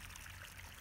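Irrigation water trickling through a lemon plantation, a brief, steady, soft wash of running water.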